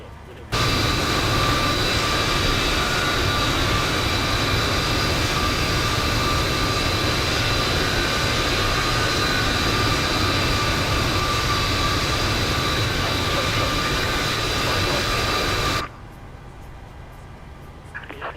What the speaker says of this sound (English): Starting engine 1.